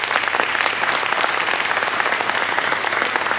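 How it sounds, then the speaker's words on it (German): Audience applause at a live podcast recording, a dense steady patter of clapping hands from a close crowd filling the whole stretch without talk. "Alle einen Applaus für ihn."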